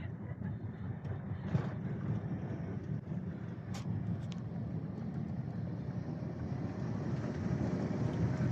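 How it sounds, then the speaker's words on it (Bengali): A passing train rumbles steadily, the low mechanical roar holding for several seconds and swelling slightly toward the end, heard from a roadside with traffic close by and no voices. "কিছুক্ষণের ভিতরে একটা ট্রেন আসতেছে। এসে গেছে ট্রেন।"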